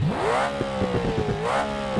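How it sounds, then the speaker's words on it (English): A modified 1971 Dodge Charger in the BeamNG video game revs its exhaust, the engine note climbing sharply, holding, dipping and surging again in quick throttle blips with a rough, burbling edge. "Listen to this exhaust."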